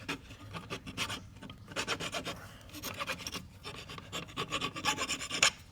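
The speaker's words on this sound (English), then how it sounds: "We'll take a file and we'll take and file that off right there." A metal hand file rasps off a ledge on a bolted bracket in steady back-and-forth strokes, a close, continuous scraping rhythm with no talking.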